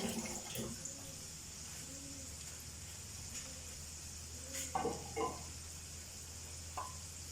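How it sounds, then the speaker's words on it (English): Rice rinsed under a running tap while preparing savoury rice, a steady close hiss of flowing water with a few brief splashes and clatters near the end, no talking. "Let's give it a quick rinse."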